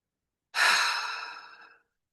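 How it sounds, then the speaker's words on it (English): A single deep, full breath exhaled slowly in a quiet meditation setting, a soft airy sigh that swells quickly and fades over about a second, heard alone. "taking a couple deep, full breaths"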